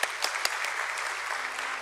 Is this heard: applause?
yes